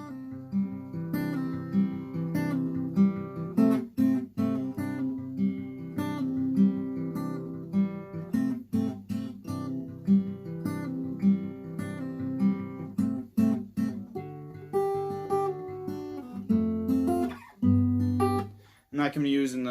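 An acoustic guitar plays a picked pattern for a song, clear plucked notes and chords ringing in a repeating cycle, close and fairly quiet with slight pauses between phrases.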